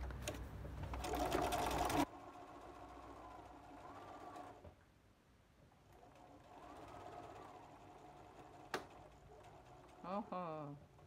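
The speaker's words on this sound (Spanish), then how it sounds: "Y ahora sí vamos a coser." Sewing machine stitching a quilt block, a loud burst of rapid stitching at the start, then quieter hum and faint mechanical ticks with occasional clicks and a brief squeak near the end.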